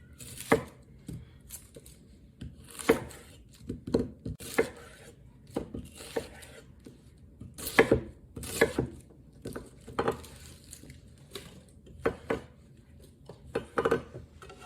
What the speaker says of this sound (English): So in with the onions. It's going to be a rough chop.